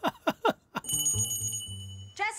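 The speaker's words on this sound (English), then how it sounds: "You ring a bell?" A bell in a film rings in a sustained bright peal, preceded by several short sharp knocks, ending with a brief voice.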